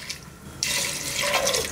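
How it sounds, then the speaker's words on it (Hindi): Water gushes into a pressure cooker holding soaked chickpeas, starting abruptly after a brief clink and pouring steadily and close, with a rising gurgle as the pot fills. "अब इसमें हम पानी डालेंगे"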